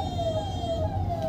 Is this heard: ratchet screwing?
no